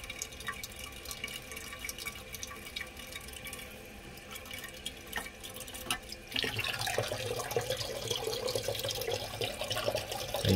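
Toilet tank refilling with water after a flush, a steady hiss and trickle that grows louder and fuller partway through as the flow increases, close and continuous with no talking.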